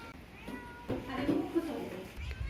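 Cat meowing in a home, a couple of short mewing calls mixed in with people talking nearby.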